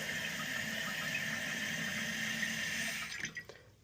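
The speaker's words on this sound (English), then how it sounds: "Pull the corner of the flapper so your dang water drops." Water drains from a toilet tank after the flapper is lifted, a steady close rushing flow that dies off in trickles and drips near the end.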